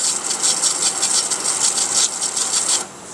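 A semi-jet water pump fitted with an automatic pressure control runs up close with a steady whirring hiss and a fast rhythmic pulsing, then drops to a quieter hum just before the end.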